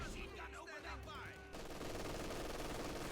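Maxim machine gun fire in the video game Company of Heroes 2, rapid continuous bursts that become a dense, steady rattle in the second half, mixed with other battle noise.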